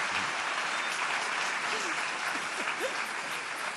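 Church congregation applauding and cheering at a Christian worship gathering, a dense steady wash of clapping from a large crowd, with a few faint voices calling out beneath it.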